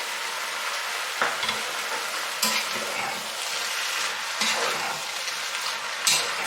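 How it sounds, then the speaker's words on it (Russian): Three finely chopped garlic cloves fry in a pan for a Chinese Beijing-style soup, giving a steady close sizzle with a few sharp scrapes and clinks of stirring. "Добавляю 3 зубчика чеснока мелко порезанного и обжариваю еще около 2 минут."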